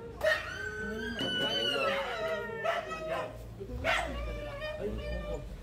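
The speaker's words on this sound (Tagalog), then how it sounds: "Ang ingay ng aso." A dog barks and yips repeatedly nearby, the barks coming in irregular bursts with a whiny, howling edge.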